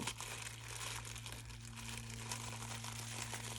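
A zipper sample, a strip of 3 mm zipper teeth, is pulled out of a plastic bag. Steady crinkling of the plastic runs through the whole stretch, with no talk over it and a low hum underneath.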